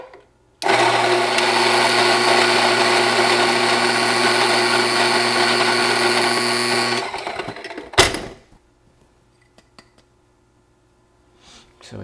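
Espresso coffee beans are ground in a blender, a loud steady whirring roar that lasts about six seconds and then stops abruptly, followed by a single clunk and near silence.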